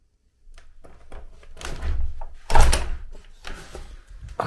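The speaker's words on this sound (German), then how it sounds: "Vielleicht kriegen wir die Tür gar nicht auf" A door opening at a snowy sauna in Finland, heard as a few close knocks and thumps with a louder clunk midway, followed by softer handling noises and no voices.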